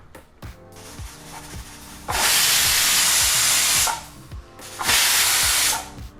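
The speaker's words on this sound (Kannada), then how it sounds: "ಈಗ ಕುಕ್ಕರು 2 ವಿಸಲ್ ಕೂಗಾಯಿತು" A pressure cooker whistles twice while village-style chicken curry cooks, two loud sustained hissing steam blasts, the first about two seconds long and the second shorter, separated by quieter kitchen sounds with faint background music.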